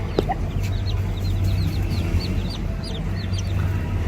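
Hens clucking and softly calling in a yard, several birds close by against a constant low background hum, with no talk.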